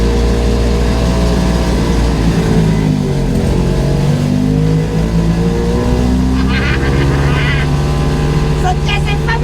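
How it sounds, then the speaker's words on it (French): Engine of a small license-free microcar, mounted under the driver's seat, droning steadily and loudly throughout while driving, with a constant low hum and occasional higher rattles toward the end. "Première fois que je conduis une caisse et j'ai le moteur sous le derrière."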